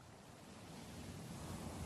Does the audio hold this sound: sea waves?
yes